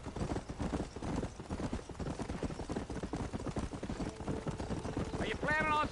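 Horse hooves clip-clop steadily through a Red Dead Redemption ride, a continuous rhythmic gallop under game sound, with a brief whinny-like tonal sound near the end.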